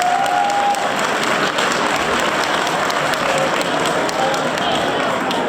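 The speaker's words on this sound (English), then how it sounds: "Let's give a round of applause to the staff and students." Sustained applause from a large audience at a high school 50th anniversary event, dense and steady clapping throughout with a faint murmur of voices underneath.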